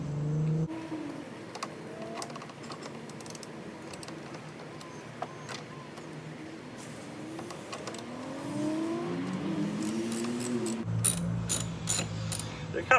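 A hand ratchet works the nuts loose on a license plate bracket of a Dodge Charger, with repeated clicking runs near at hand and a tonal whine and mechanical noise in the background.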